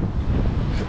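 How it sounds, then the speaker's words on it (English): Strong wind buffets the microphone on a freezing Blackpool north beach, a steady, loud low roar with gusts filling the whole second, no voices. "it's freezing and it's windy"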